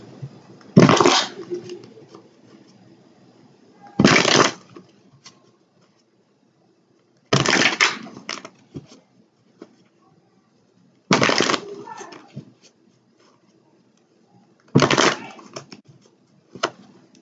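Five separate bursts of tarot card shuffling, each a quick riffling flutter about a second long, spaced by quiet pauses.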